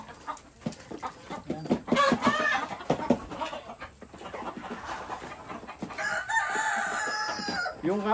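Chickens cluck and scratch around a farm under a mango tree, and a rooster crows loudly near the end, with short calls scattered throughout.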